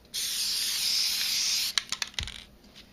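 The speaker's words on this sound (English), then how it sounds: "so the reason you want to use the basting spray is because then you don't have to pin anything together" Basting spray hisses from an aerosol can onto felt and batting for a quilted holiday hot pad, one steady burst of about a second and a half, followed by light rattling and rubbing sounds.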